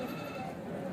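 Goats bleat at a weekly sheep and goat market in Kadiri, a faint, short wavering cry against a murmuring crowd background.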